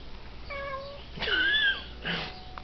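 A cat gives three clear meows in quick succession: a short one, a longer rising and falling cry, then a brief final call. The meows are fairly quiet and close, with no talking.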